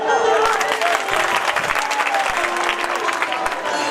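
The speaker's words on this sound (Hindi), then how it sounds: "और अब तालियां बजाओ" A crowd claps at a Ganesh Mahotsav festival program, loud sustained applause with sharp individual claps. Voices and tonal sounds mix in behind the clapping.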